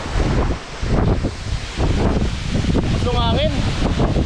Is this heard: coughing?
no